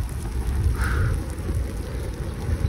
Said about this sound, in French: ça y est on la prend là la pluie qu'on attendait